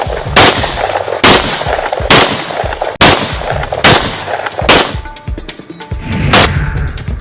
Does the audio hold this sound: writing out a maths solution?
no